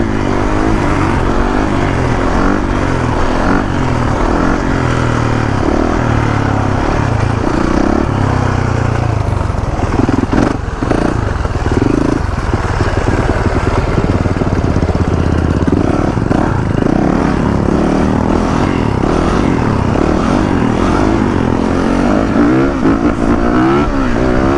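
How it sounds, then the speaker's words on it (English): Motorcycle engine revving hard during a celebratory wheelie, a loud, close, continuous roar that rises and falls in pitch as the throttle is worked, with no speech. "We gotta throw up a celebratory wheelie."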